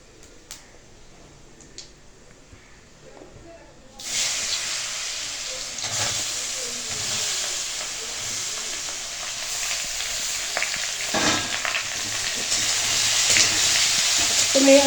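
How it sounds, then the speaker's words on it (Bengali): Mangoes frying in hot oil with five-spice seeds, stirred with a spoon: quiet at first, then a steady loud sizzle and hiss from about four seconds on, with occasional scraping stirs, building slightly toward the end. "এখন আমগুলো আমি এটা দিয়ে নাড়াচাড়া করবো"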